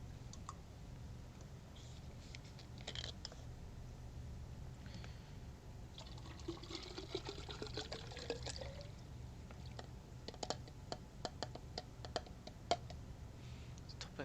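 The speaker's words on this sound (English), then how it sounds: "Topping up my water." Water refilling in the space survival game No Man's Sky: a soft pouring, filling effect with light clicks mixed in, steady and fairly quiet, without speech.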